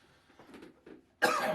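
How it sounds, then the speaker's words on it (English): A few soft breaths and throat noises, then one loud, abrupt cough close to the microphone. "Make sure you cut out that cough."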